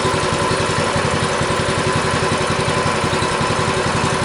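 A Massimo MB200 mini bike engine, just started and warming up, idles at a steady close-range putter with an even, rapid pulse and no voices over it.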